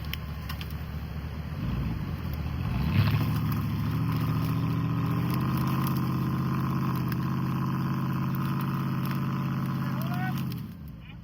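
A Porsche engine stuck off a cliff revs steadily in reverse, a loud sustained drone that climbs at about three seconds, holds under light throttle, then drops away near the end; voices talk over it.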